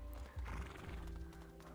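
A horse whinnies faintly in the game A Plague Tale: Innocence, with hoof clip-clops and a steady low hum underneath.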